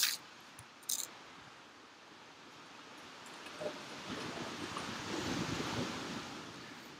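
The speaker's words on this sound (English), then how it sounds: "We've got big waves today" Big ocean waves rolling in under gusting wind on an open shore, a broad steady roar that swells louder toward the end, with brief wind buffeting on the microphone at the start.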